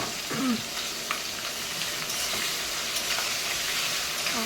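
Chopped onions fry in a pan for lamb curry, a steady broadband sizzle running throughout at close range, with a few faint scrapes of stirring and no talking.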